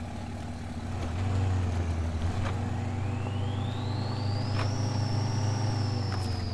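A truck in the SnowRunner video game drifts. Its engine hums low and steady at mid distance, and a thin whining tone rises in pitch and then holds over the engine.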